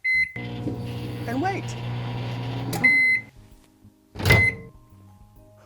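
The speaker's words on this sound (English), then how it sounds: "And then go ahead and pop it in the microwave." A microwave oven heating sugar and water for simple syrup: a door thunks shut, a steady electric hum runs for a few seconds, then beeps sound and the door clunks open, with brief speech mixed in.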